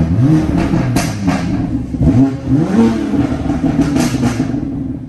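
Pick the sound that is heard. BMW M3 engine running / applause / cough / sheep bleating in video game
BMW M3 engine running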